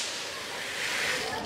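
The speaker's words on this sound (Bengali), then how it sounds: "প্রথমে এইভাবে আমরা গমগুলো ঢেলে দিব।" Wheat grains poured into a flour-making machine, a steady hissing rush of falling grain lasting a second or two, close and fairly loud.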